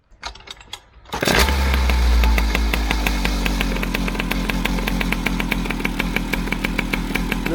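A Malossi-tuned scooter engine catches after about a second of quiet and then idles steadily, loud and close, with a buzzing, slightly uneven pulse.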